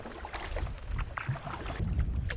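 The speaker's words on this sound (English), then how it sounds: "Now I'm into the wind because the river is just so windy." Wind blows across a swollen river around a small boat, a steady gusty rush with light water splashing and knocks close by, no talking.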